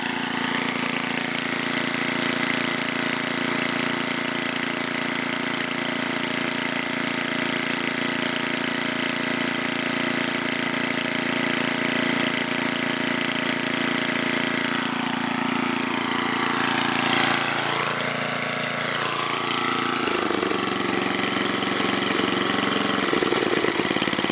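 A 1975 Tecumseh Snowking small engine runs steadily at a close, loud idle, its note dipping and wavering near the end as the speed shifts, with no voices.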